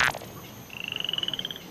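A frog croaking: after a brief sharp noise, a quick rapid pulsing trill of about a dozen even beats rises, close and clear against a quiet background.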